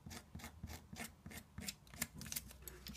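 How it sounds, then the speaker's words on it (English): A Stanley blade scraping down the outside of an engine flange to cut masking tape for a homemade gasket, a quiet, close rhythmic rasping of short repeated strokes. "just scrape the Stanley blade down the outside of the flange like so"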